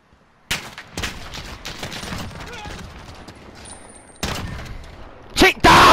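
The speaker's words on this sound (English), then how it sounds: "Don't know why I shot that many bullets." Rapid gunfire in a Modern Warfare gunfight, sharp repeated bursts cutting in and out over several seconds, loud and close, with a heavy final volley near the end and talk mixed in.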